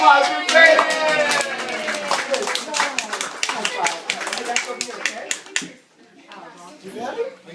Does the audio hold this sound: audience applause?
yes